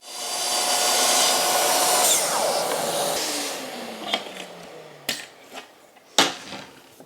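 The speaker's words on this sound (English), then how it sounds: "using the track saw cutting station to cut sheet goods, or in fact any bits of timber, is an absolute doddle" A track saw cuts sheet goods or timber in a workshop with a loud, close whine that then spins down, followed by a few sharp knocks and clatters as the work is handled.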